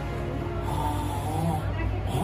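A person who has become very weak and unwell snores heavily, a continuous rough, rasping breath noise that stays loud and close through the whole stretch, with no clear talk over it.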